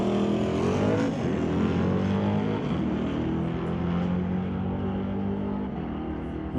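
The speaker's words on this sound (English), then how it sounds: "you get a really good listen to the car rolling through the gears" A Super Shifters drag racing car at a bracket race runs a bye pass, its engine roaring loud and continuous for several seconds while it climbs through the gears, with the pitch rising and dropping at each shift.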